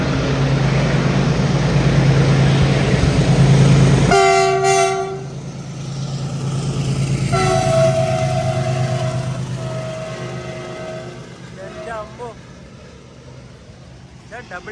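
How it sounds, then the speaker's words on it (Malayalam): A double-decker container train pulled by a heavy locomotive passes near a moving InterCity Express sleeper coach on the Jodhpur–Ahmedabad line: a loud low rumble, then several long, sustained horn blasts, fading away at the end. "ഒരു ഡബിൾ ഡെക്കർ കണ്ടെയ്നർ ട്രെയിൻ വരുന്നുണ്ടേ"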